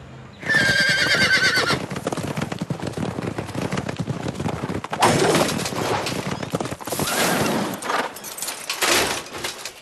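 A horse in an animated fantasy series whinnies loudly and close by in a scene set inside a painting, then its hooves clop steadily as other rustling and movement sounds continue, with no talking.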